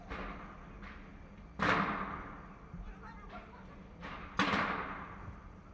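Several distant gunshots outside in New York City, irregularly spaced with two louder cracks that echo and decay, over low background noise.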